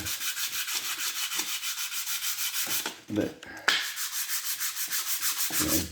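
Steady, rhythmic rasping of hand sanding on a Briggs and Stratton engine cylinder head, back-and-forth strokes close up, with a brief pause midway before the scraping resumes at the same pace.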